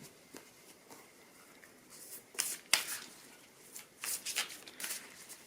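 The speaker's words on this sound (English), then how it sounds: "More shuffles." A deck of cards is shuffled during a card reading: a few quiet, close, crisp riffling bursts separated by short gaps, with no voice.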